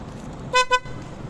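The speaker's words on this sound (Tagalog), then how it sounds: "Busina mo pa? Ay, busina pa." Two quick, loud toots of a modified motorcycle horn in rapid succession, close by, over a faint background hum.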